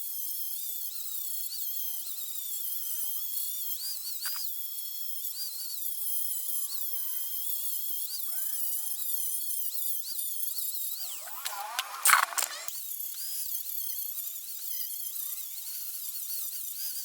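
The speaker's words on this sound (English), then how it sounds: "So now I'm just going to take my grinder and grind down all those welds" Grinder grinding down welds during rust repair on a Porsche 914, a continuous high-pitched whine with shifting pitch as it bites the metal, a harsher burst near the end, alone with no voices.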